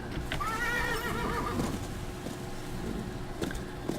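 Horse in the Western video game Call of Juarez: Bound in Blood whinnying loudly and close, with a wavering neigh near the start, followed by clopping hooves and scattered thuds.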